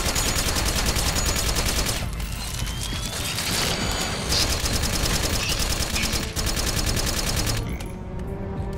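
Metal Gear Solid 4 gunfire hammers away in rapid automatic bursts, loud and close, almost without a break. Brief gaps are filled by clanking combat noise.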